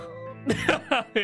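Four short, clipped coughs from a video game character in Ace Attorney: Dual Destinies, close and fairly loud over a soft sustained music bed.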